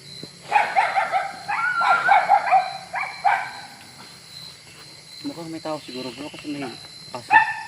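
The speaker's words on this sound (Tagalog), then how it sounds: "mayroong aso dito, bro." A few sharp dog barks ring out in quick bursts at the start, followed by fainter yips and whines later, set against a quiet outdoor background.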